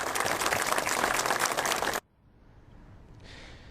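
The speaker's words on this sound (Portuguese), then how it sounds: "A cada sepultamento, os mortos foram homenageados com aplausos." Mourners at a cemetery burial after a massacre break into dense, sustained applause for about two seconds, which stops abruptly and leaves quiet background noise.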